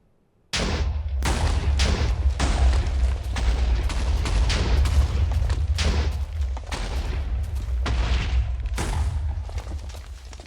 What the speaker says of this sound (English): let's get some explosions going here.